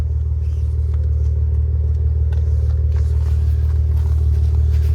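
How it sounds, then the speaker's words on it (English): A 2014 Maserati Ghibli S Q4 engine and exhaust give a deep, steady low rumble heard from inside the car, loud and continuous with faint higher noises over it. "The engine sounds good. The exhaust sounds fantastic."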